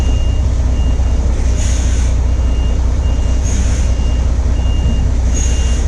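A truck reverses with steady, evenly spaced reversing beeps over a loud, constant engine rumble, broken by a few short bursts of air hiss.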